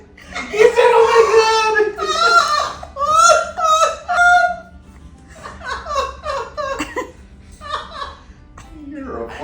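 An Amazon parrot squawks and says a short human-like phrase, close and loud, with bursts of laughter and people talking around it.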